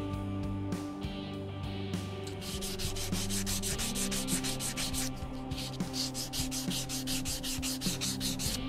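Guitar frets on a Telecaster being sanded during fret leveling, a steady close scraping rub with rhythmic back-and-forth strokes running throughout, with no talking.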